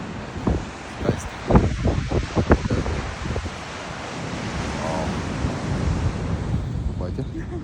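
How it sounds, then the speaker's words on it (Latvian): Pacific Ocean waves break and wash on the shore, a steady broadband surf roar with gusty wind on the microphone and a few sharp knocks early on. "Guļu un baudu okeāna skaņu un skaisto skatu."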